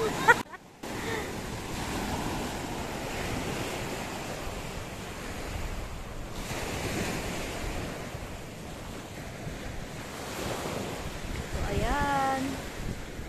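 Ocean surf at Munting Talao Talao Beach in Dalahican, Lucena City, rolls and washes continuously, a broad roaring hiss with gentle swells, mixed with wind buffeting the microphone and brief voices near the end.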